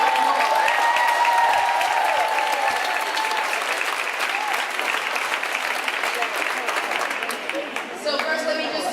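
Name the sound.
audience round of applause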